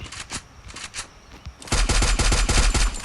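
Rapid automatic gunfire from a shooting game played on a new phone: sparse single shots at first, then a loud, sustained stream of close, rattling bursts.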